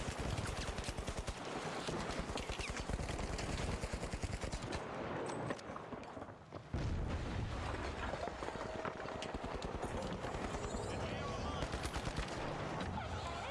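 Automated turrets in the shooter game The Finals unleash rapid, continuous automatic fire, loud and close, hammering on almost without pause with a short lull midway before resuming at full intensity.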